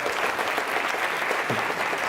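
Audience applause at a Berlin games festival talk: a loud, even wash of clapping from a sizable crowd, sustained without pause throughout.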